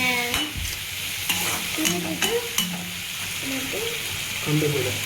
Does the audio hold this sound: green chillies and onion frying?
yes